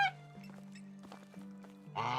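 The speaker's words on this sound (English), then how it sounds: "I missed hearing quacking sounds every time I jumped." Quacking duck sounds triggered by a character jumping in the medieval survival game Medieval Dynasty, a few short nasal calls over a steady low game hum, the loudest burst coming near the end.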